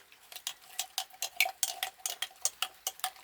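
A utensil stirs homemade coconut-oil soap mixed with lye in a container, making quick regular ticking scrapes and clinks, roughly three to four per second. The strokes are close, light and steady, with no voices.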